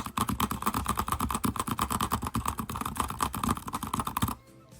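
Rapid keyboard tapping for the osu! rhythm game, played scratch-style without the middle keys, producing a dense, fast, steady stream of close clicks that stops abruptly near the end.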